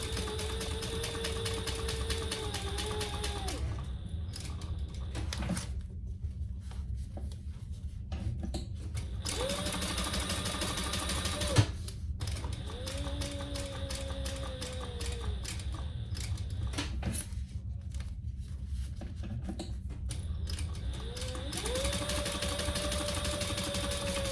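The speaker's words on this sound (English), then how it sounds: "Another small seam allowance. Back stitch well." A sewing machine stitches the seam of a small fabric mini wallet, its motor whirring in several runs that rise and settle in pitch, separated by brief pauses, close and steady with no talk.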